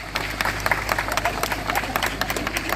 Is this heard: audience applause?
yes